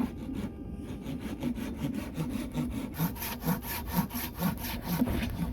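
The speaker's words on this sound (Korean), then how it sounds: "모닝 톱질" Steady back-and-forth hand sawing through wood, a rhythmic rasping stroke about twice per second, close up and fairly loud, with no talking.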